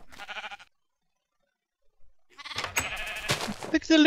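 Sheep bleating in the Minecraft video game as a baby sheep appears, a burst of short game bleats after a pause, loud and close, with other game sounds mixed in.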